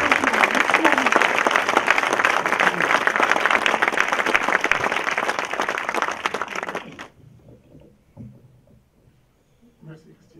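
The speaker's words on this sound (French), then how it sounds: "je vous demande de doubler l'applaudissement pour ce monde agricole que nous vous présentons" Loud, sustained applause from a large event audience rolls on for about seven seconds, then cuts off abruptly, leaving a quiet room with faint shuffling and a few soft sounds.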